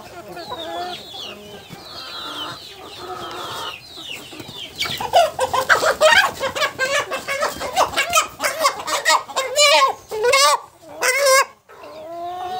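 Chickens and roosters clucking and squawking during beak trimming, starting as scattered calls and building into loud, rapid, agitated bursts of close clucking, with a person speaking underneath.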